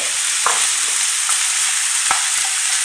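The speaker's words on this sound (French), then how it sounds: "j'ai mis de l'huile dans la poêle. Je rajoute les oignons ainsi que l'ail pilé." Onions and crushed garlic frying in hot oil in a pan give a steady, bright sizzle, with a few soft stirring scrapes and taps scattered through it. No one speaks.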